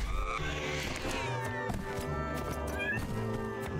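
Several cats meow repeatedly in the video game Postal, overlapping drawn-out cries over a steady game background with faint low thuds.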